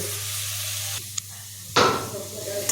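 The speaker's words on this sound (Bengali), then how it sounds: "দিয়ে মশলা ভালো করে কষিয়ে নেব।" Ground spice paste frying in a pan, giving a steady sizzle that drops away briefly, then returns as a louder burst of hissing and stirring scrapes.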